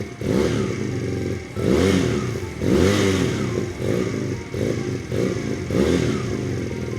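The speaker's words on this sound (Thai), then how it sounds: "มาฟังเสียงท่อเลย อ่าสตาร์ทติดทีเดียวรู้เรื่องเลยนะครับผมเจ้าคันนี้" A 2022 GPX Legend 250 Twin Mark3 motorcycle runs up close, its parallel-twin exhaust thrumming loudly and swelling in several quick revs over a steady idle.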